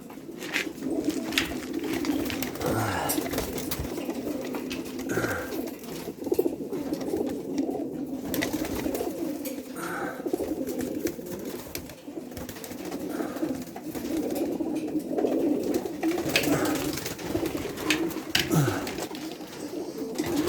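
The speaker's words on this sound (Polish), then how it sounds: "Jak widzicie, dużo jest jansenów. Potężne, duże, kliniaste gołębie." Loft of large, wedge-shaped Janssen racing pigeons, with steady, overlapping cooing from many birds filling the space continuously throughout, no talking.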